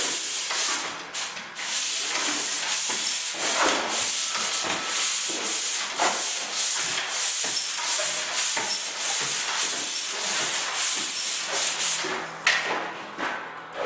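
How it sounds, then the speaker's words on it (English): Rough sandpaper scrapes across a drywall ceiling in quick, repeated strokes, a harsh hissing rasp close up that continues almost without pause. "So we just do a rough coat, a rough sanding, just like that."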